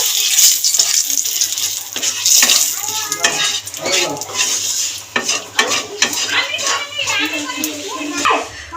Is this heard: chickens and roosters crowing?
no